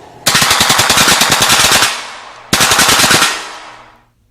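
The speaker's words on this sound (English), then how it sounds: "The variation is due to the pressure it takes to operate one of these bump fire stocks" Rapid automatic-style gunfire from a bump fire stock during the Las Vegas shooting, two long bursts of dense, fast shots, each ringing out and fading with echo, loud and with no talking.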